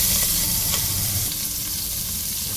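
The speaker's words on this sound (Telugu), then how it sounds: "జీలకర్ర ఫ్రై చేస్తున్నాం" Cumin seeds frying in hot oil for bagara rice, a close, dense crackling sizzle that holds steady throughout, with no voices.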